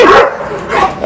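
A dog barking from across the room, two loud, close, strained barks that trail into a whiny yip, with no one speaking over them.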